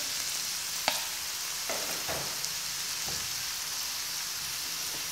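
Onions for kefta frying in oil in a pan, a soft continuous crackling sizzle with a few sharp stirring clicks and scrapes, quiet and close, no voices.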